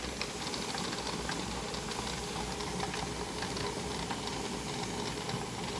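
Pressure canner hissing with steam while processing frozen corn, a constant rushing hiss with faint rattling ticks, close and alone, no talking.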